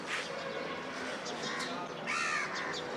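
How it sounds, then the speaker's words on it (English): A crow caws outdoors in a natural setting, a few harsh calls spaced across the stretch, fairly close and clear above a soft ambient background, with no talking. "This is crow."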